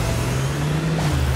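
A car in the Rocket League video game drifts, a steady low engine drone with a slight rise near the end, loud and close, no voices.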